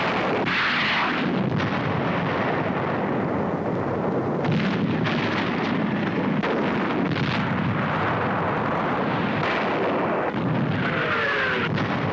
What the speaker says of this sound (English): Landing craft is hit by enemy shells, leaving wreckage and dead.